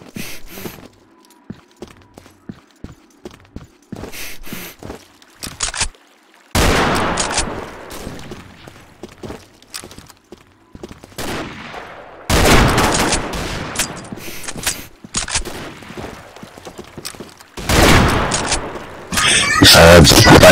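Gunfire in the Combat Arms game: scattered single shots at first, then loud sustained bursts and heavy automatic fire in several waves, with voices talking over the shooting.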